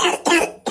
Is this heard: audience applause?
no